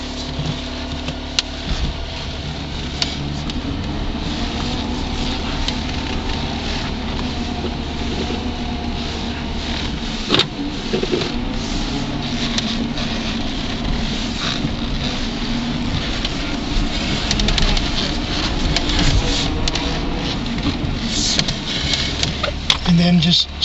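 Electric motor of a Porsche 924 EV conversion driving in reverse, a steady whirring drive hum with rattling rail-like clatter and occasional knocks running throughout, with no engine note or clutch.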